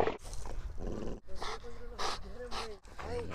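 Siberian huskies whimpering, panting and growling up close, with a person talking over the dogs throughout.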